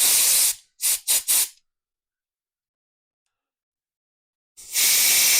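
Compressed air from a shop compressor is blown through a brake caliper hose on a 1986 Buick Grand National, giving a loud hissing blast, then three short spurts, a long silence, and another strong sustained hiss.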